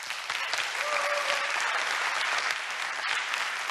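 Steady applause from a lecture audience fills the room for nearly four seconds, a dense, even wash of many hands clapping at close range with no pause.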